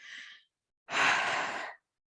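Two breaths demonstrating diaphragmatic breathing: a short soft inhale, a pause, then a longer, louder, airy exhale, close and alone without talk.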